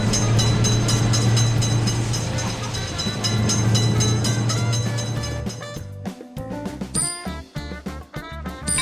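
A train rumbles steadily and loudly past a railway level crossing, a heavy low roar that holds for about six seconds and then breaks into scattered clanks and rattles as it clears.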